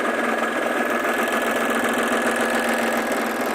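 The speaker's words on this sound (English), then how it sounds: "Sew it all together." Serger sewing machine running steadily while stitching pieces of denim together, a loud, continuous, even mechanical whir with a fast rapid pulse, close by and without any talking.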